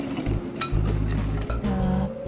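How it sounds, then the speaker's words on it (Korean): A sifted flour gets folded into chiffon cake yolk batter in a bowl, with a continuous close scraping and mixing sound and a brief clink of the utensil against the bowl. "날가루가 보이지 않을 때까지 골고루 섞어주세요."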